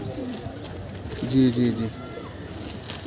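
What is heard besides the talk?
Kolkata eyes pigeon cooing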